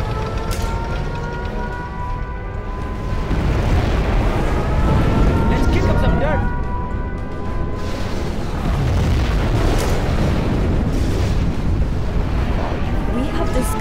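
Nuclear missile launch and detonation in Command & Conquer Generals Zero Hour, a sustained loud rumbling roar with deep booms and crackling debris throughout, over layered game background noise.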